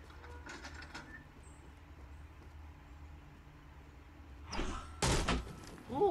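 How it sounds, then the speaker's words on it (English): Small doors closing inside a Fortnite building, two abrupt, loud slams near the end following a quiet stretch of faint game ambience, with no talk. "Close all these little doors."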